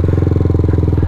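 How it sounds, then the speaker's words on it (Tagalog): A single motorcycle passes close by near the Bataan–Cavite Interlink Bridge project site, its engine a loud, steady, rhythmic putter throughout the short moment with no talk over it. "May motor. Isa lang."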